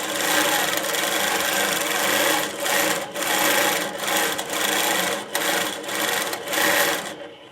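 An INNOVA Longarm Classic quilting machine stitches in rapid, loud mechanical bursts, running in several runs separated by short pauses, close and without talk.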